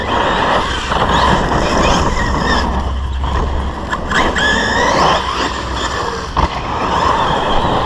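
A 6S RC car drives over dry, dusty dirt, its motor whining and rising and falling close by, with tires scrabbling and skidding across loose ground and occasional sharp knocks.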